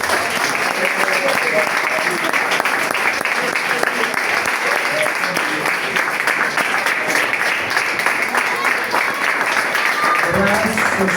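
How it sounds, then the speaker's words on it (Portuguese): A church congregation at an anniversary service claps steadily and loudly for the whole stretch, dense applause filling the room with voices mixed in. "Levante os seus instrumentos assim, ó, suas mãos, e aplaude o Senhor Jesus"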